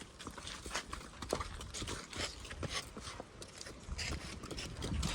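A horse's hooves clip-clop on the ground at a walking pace in a village, the steps irregular and fairly close amid steady outdoor background noise.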